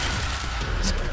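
Rapid enemy gunfire in the video game Quantum Break, a dense, loud clatter of shots with booming low end filling the whole moment, with no talk over it.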